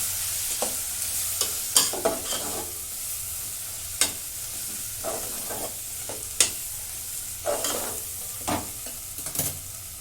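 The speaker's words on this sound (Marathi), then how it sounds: "हळद परतून घेते मसाले" Garam masala, coriander-cumin powder, red chili powder and turmeric sizzle while being sautéed for masale bhaat, with a steady frying hiss broken by repeated close scraping stirs of a spoon in the pan.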